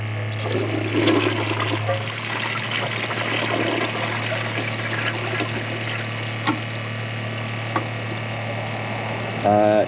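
A Kohler Wellworth Ingenium elongated toilet flushes with a steady rushing, trickling swirl of water that runs nearly continuously for about ten seconds, ending with a brief gurgle.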